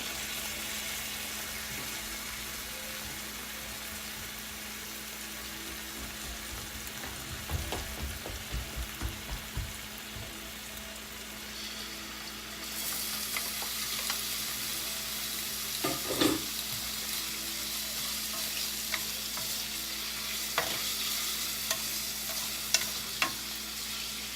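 Beef stir-fries in a pan for a long stretch, with a continuous sizzle and frequent scraping and clacking of the utensil against the pan. The frying grows brighter and louder about halfway through.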